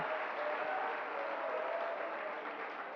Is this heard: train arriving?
no